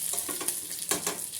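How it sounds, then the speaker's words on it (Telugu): Curry leaves, urad dal, chana dal, cumin and mustard seeds sizzle in hot oil for a buttermilk rasam tempering, with onions in the pan; a steady crackling hiss with soft stirring scrapes and small pops, close and alone. "కరివేపాకు, ఇదిగోండి కొంచెం మినపప్పు, శనగపప్పు, జీలకర్ర, ఆవాలు తాలింపులు వేసేస్తున్నాను."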